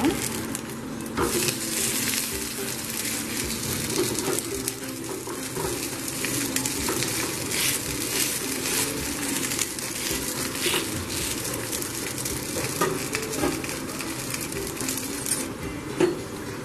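Small rounds of batter frying in a pan for a quick breakfast, the pieces turned over to cook; a dense, continuous close sizzle runs throughout with occasional scrapes and light clinks.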